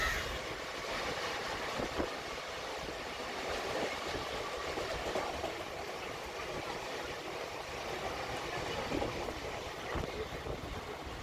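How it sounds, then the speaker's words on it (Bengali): A passenger train running steadily toward Digha, a continuous rumbling roll with faint rail clatter heard from inside a carriage, fairly loud and unbroken throughout. "ট্রেন যাওয়া শুরু হয়ে গেছে"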